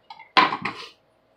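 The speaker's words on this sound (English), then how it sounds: "Right now, he's going into the bowl with the onion." Chopped onion tipped into a bowl, a faint tap followed by a short clattering scrape of dish and utensil, close and alone.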